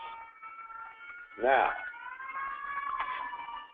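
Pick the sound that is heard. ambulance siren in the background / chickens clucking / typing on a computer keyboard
ambulance siren in the background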